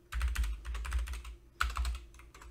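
Computer keyboard typing: two quick bursts of close, crisp key clicks with a brief pause between them, heard alone with no talk.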